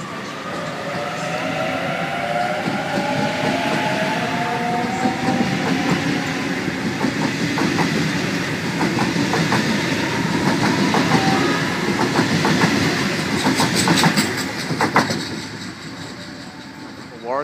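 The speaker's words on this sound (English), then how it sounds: "Departing platform number 2, Hornsby service." A Sydney Trains electric train pulls away from platform 2 at Pennant Hills on a Hornsby service, a loud steady rumble with wheel clatter and squeals that builds and holds close by, with metallic clicks near the end.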